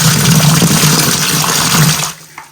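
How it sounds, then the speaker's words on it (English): Fresh water runs loudly into a plastering bucket, a strong continuous gush for about two seconds before it cuts off, leaving a faint drip and splash. "a little bit of fresh water into this bucket."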